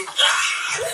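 A girl's short, high-pitched scream played back from a video, loud and close, lasting under a second.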